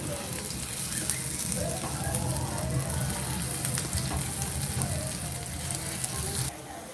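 Small dahi vada dumplings sizzle and crackle steadily in hot oil, a dense close frying hiss without pause that cuts off near the end.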